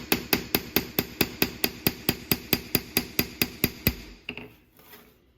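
A hammer strikes a kinked steel sawplate lying flat on an anvil, about twenty sharp, ringing blows in an even rhythm, close and clear, stopping before a few faint trailing sounds.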